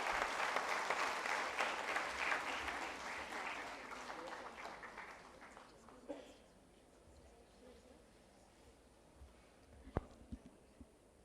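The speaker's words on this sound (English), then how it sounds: "Can we please have a huge round of applause for Dia Mirza for joining us?" Audience applause at a conference valedictory session, a dense wash of clapping that fades after about six seconds, leaving quiet room sound with a few scattered claps and a sharp knock.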